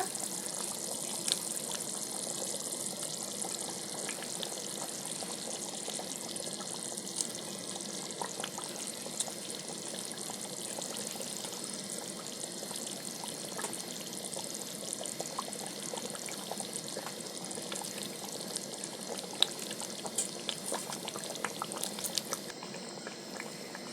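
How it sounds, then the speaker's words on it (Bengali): A pot of fish curry boiling steadily as shol (snakehead) fish pieces go into the bubbling gravy; a dense, continuous bubbling and simmering hiss at close range with faint small clicks, no voices. "ঝোলটা ফুটে গেছে এইবারে এর মধ্যে আমি সব মাছগুলো দিয়ে দিচ্ছি"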